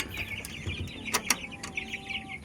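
Young male chickens around two months old at a small backyard poultry pen give scattered clucks and short calls in the morning, with a few sharp bursts standing out over a quiet outdoor background.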